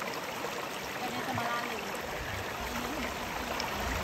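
River water flows steadily nearby in a rural outdoor setting, a constant broadband rushing with faint trickling, while people talk over it.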